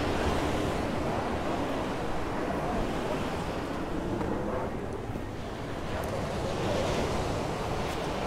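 Rough sea waves roll and crash at Ciudad Jardín in Palma de Mallorca, making a continuous loud wash of surf mixed with gusty wind buffeting the microphone.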